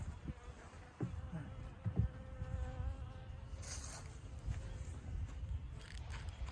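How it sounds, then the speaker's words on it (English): Honeybees buzz at a hive opened for a winter feed check, a steady low drone with some close passes near the listener, alongside occasional knocks and handling sounds. "Lots of bees, and they're after me."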